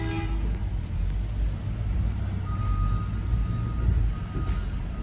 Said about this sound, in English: So the yard goat's trying to back that trailer in.